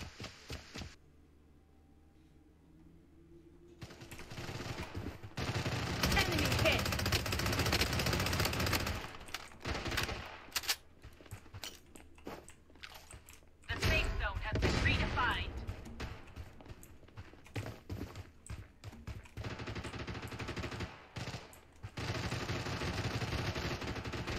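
Video-game gunfire with heavy recoil: long stretches of loud, rapid automatic shots broken by short gaps, with excited talk over the shooting.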